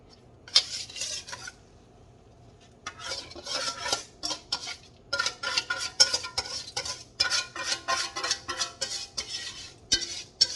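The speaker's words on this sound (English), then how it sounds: "I'm fixing to drop it into this pan" Grilled onion and pepper mixture scraped and dropped into a non-stick, oven-safe pan, heard as a run of loud, close clinks and scraping clatters of utensil against pan, with no talk.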